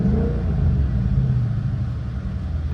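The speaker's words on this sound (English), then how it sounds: "Anything from even how the exhaust sounds, do something like sports," A 2022 Ford Mustang GT with a 5.0 V8 rumbles deeply through its sport-mode exhaust, a loud, close, steady low burble with a slight rise in revs early on and no talking.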